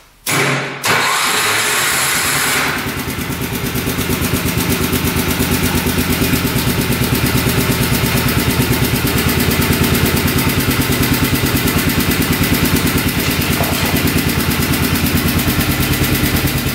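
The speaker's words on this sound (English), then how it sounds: "let's see if she fires up and idles out all the way now." A rare ATV engine cranks briefly, catches and settles into a steady, loud mid-pitched idle that runs evenly for a long stretch without talk.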